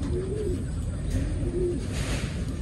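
A pigeon named Salpok gives soft, repeated low coos, several short warbling calls close by against a quiet indoor background.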